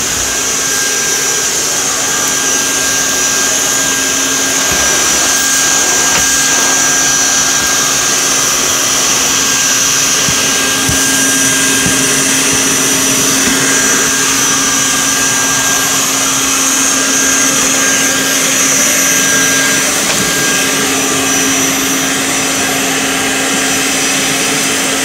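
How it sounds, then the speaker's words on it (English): A vacuum cleaner with its carpet head removed works over the cracks of a wooden trailer floor, giving a loud, steady motor whine with a constant hum and no talk for the whole stretch. "That's another good vacuum I use for this trailer."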